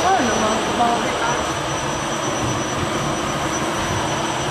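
A loud, steady engine roar fills the whole clip, a constant broadband drone like a nearby aircraft engine running.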